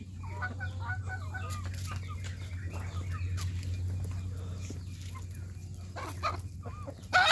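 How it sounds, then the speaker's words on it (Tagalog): Chickens clucking at a farm site on Mount Mataba in San Mateo, Rizal, with scattered cackles and calls over a steady low hum, moderately distant, no talk. "Manok."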